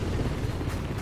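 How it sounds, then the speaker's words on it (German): A small remote-controlled aircraft in a video game sweeps past as a loud, rumbling low drone. It is steady and close, with a slight shift toward the end. No one speaks over it. "ferngesteuertes Flugzeug oder so angeflogen."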